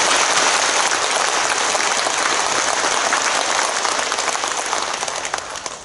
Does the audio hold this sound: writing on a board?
no